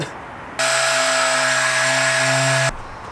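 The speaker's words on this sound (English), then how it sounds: "now that I'm finished with the sander" A loud, steady high-pitched power sander whine on a car body runs for about two seconds, then cuts off, leaving quiet background.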